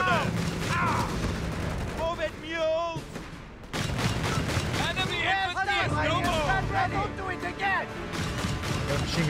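Machine gun fire and other battle noise from the Company of Heroes 3 World War II strategy game, set in the North Africa campaign, with steady bursts and explosions running throughout under game voices and music.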